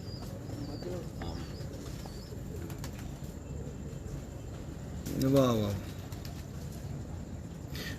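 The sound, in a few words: pigeons cooing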